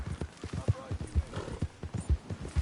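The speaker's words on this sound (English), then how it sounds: "You ride Shank, keep watch for any trouble" Horse hooves clip-clop in a steady galloping rhythm during a ride in Red Dead Redemption 2, close and even, with game dialogue spoken over them.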